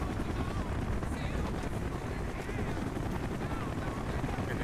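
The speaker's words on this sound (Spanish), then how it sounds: "Otro helicóptero, tío." A Chinook helicopter in the Call of Duty Black Ops video game gives a steady, loud rotor roar with dense low thumping that fills the whole stretch without a break.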